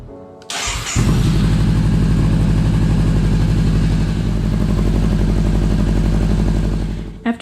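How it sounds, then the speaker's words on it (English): A Honda CB500X motorcycle engine starts and settles into a steady, loud, close idle as it warms up, then cuts off near the end. "Now the first thing that we're going to do is we're going to warm the bike up. So I'm going to run it for a few minutes"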